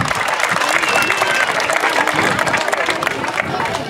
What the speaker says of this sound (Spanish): fuerte el aplauso para doña Caro